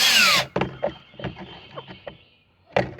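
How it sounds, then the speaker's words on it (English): A power drill drives a screw into the pre-drilled pilot hole of a cheap plastic solar motion light mount on a chicken coop: a short, loud whir, then a series of light clicks and handling knocks. "just run that screw in so it's nice and easy"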